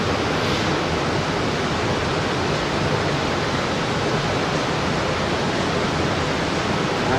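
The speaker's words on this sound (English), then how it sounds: "That's a fume extract fan." A fume extract fan runs at the five-stand tandem mill of Shotton Steelworks, giving a loud, steady broadband roar like rushing air that continues unbroken throughout without any talk.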